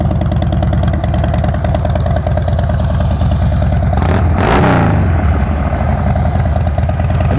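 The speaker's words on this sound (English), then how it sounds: "Vance and Hines exhaust sounds real good." Harley-Davidson Dyna Wide Glide motorcycle with Vance and Hines exhaust, rubber-mounted engine idling close by with a steady loping thump and one quick rev in the middle, no voices.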